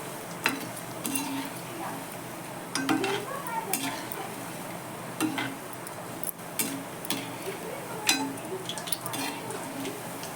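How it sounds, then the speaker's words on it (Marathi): Fritters of boiled potato sizzle gently in a frying pan while being turned, with soft steady frying under occasional sharp utensil clinks and taps against the pan. "दुसरी बाजू पलटी करून टाकते थोडीशी तळू देऊ"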